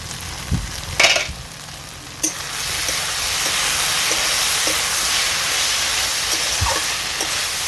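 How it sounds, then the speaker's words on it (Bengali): A lid knocks off a pot of kalmi (water spinach) greens cooking down into a thick ghonto, with a couple of clanks before a steady hiss of steam and sizzling continues. "বেশ কিছুক্ষণ হয়ে গেছে, ঢাকনাটা তুলে দেখে নেব।"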